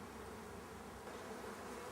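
Dense swarm of honey bees buzzing around honey supers being cleared from hives, a steady, continuous hum filling the whole stretch with no pauses or voices.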